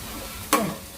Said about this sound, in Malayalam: സവാളയൊക്കെ നന്നായിട്ട് മൂത്ത് വന്നു.